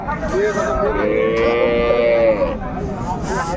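A single cow moos loudly and up close at a cattle market where dairy cows and calves are being sold, one long drawn-out call over faint crowd murmur.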